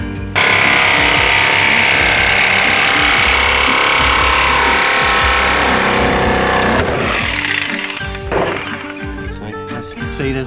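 A power drill whines loudly and steadily as it bores holes inside a caravan, then stops and starts again in short bursts, with clattering handling noise.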